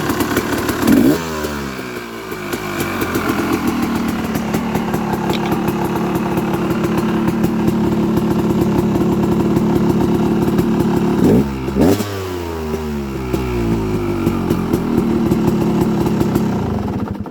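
A dirt bike engine running loud and close, with a steady rough idle and a couple of quick revs that rise and fall, heard alone with no talk.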